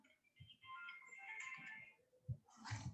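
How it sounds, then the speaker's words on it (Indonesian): A phone plays a melodic ringtone for an incoming call, a faint electronic tune repeating its notes over low room noise with a few soft knocks. "Sebentar saya ada telepon sebentar ya"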